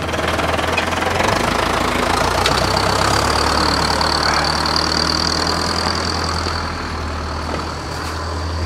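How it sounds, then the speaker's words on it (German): A large farm tractor hitched to a tipper trailer idles nearby, its diesel engine giving a steady low knocking rumble that holds at an even level, with a slight dip near the end and no talking. "Ordentlicher Traktor. Mit einem Kipper."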